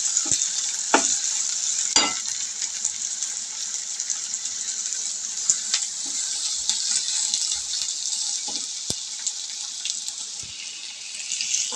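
Finely chopped filling for aloo paratha sautéing in a pan, a constant close sizzle with occasional sharp spatula scrapes and taps.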